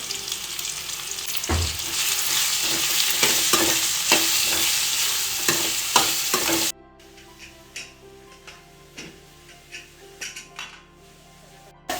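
Greens and onions fry in a pan with a loud, continuous sizzle and frequent scraping stirs of a metal spoon, then the sizzle suddenly drops to quieter frying with occasional clinks.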